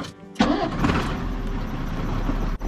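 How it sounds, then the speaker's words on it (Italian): A vehicle engine cranks with a sharp start and then settles into a steady, close idle, running to charge an air compressor during work in the Canadian Arctic. "Accendo il motore, così intanto carico il compressore."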